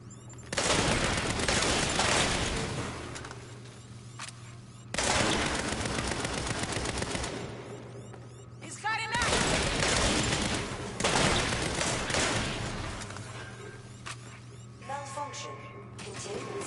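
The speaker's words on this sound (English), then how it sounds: "Shoot, they're shooting." Bursts of rapid video game gunfire, dense and loud, come in several waves with short gaps between them, mixed with game effects and under occasional voices.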